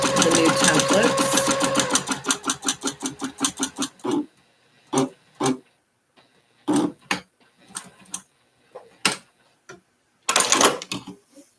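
A sewing machine stitches vinyl in fast rhythmic bursts for the first few seconds, then a handful of short separate clicks and stitch bursts follow with gaps of silence between them, while nearby talk continues.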